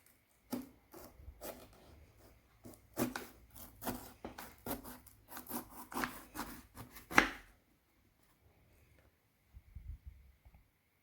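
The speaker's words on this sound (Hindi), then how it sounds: "अब हम इनको मिडल से काटेंगे और इनके बीज निकाल देंगे" A knife slices bitter gourds (karela) down the middle on a board, a run of close, crisp cutting strokes followed by quiet with a few soft handling sounds.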